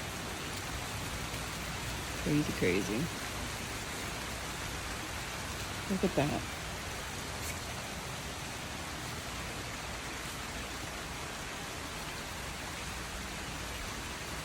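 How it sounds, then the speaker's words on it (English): Steady rain falls at sunset in Placida, Florida, after Hurricane Ian, a constant even hiss that fills the scene, with a man's brief remarks twice over it. "Sunset with the rain."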